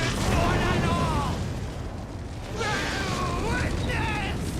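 Cannon fire explosions in the video game Elden Ring rumble and boom steadily, mixed with voices that can be heard over the blasts.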